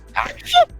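One quick, close sneeze bursts out in under a second, sharp and loud in an otherwise quiet indoor room.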